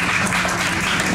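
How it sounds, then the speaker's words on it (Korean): Audience applause at a live jazz concert, a brief, steady burst of clapping from a room full of listeners heard alone at moderate loudness. "박수 부탁드립니다."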